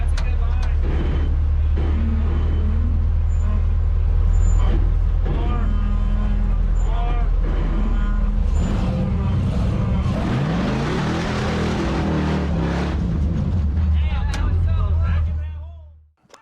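An off-road vehicle backs up and climbs on a sand dune trail at Sand Dune Gulch in Vernal, Utah, its engine rumbling low and steadily with surging revs, while people talk over it.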